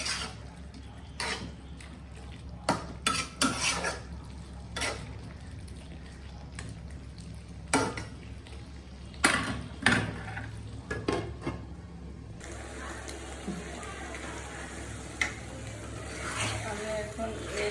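A wedding-style vegetable curry cooks in a pot while a spoon stirs and scrapes in irregular knocks over a steady bubbling sizzle, with a voice talking at times.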